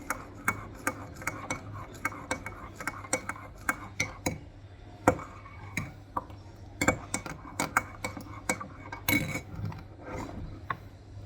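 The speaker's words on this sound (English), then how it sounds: "so I'm going to continue stirring." A spoon clinks and scrapes against the inside of a pot of soup in irregular, close taps over a steady low hum, with no voices.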